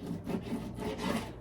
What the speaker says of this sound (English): we're going to take this pheasant breast and we're going to slice it into strips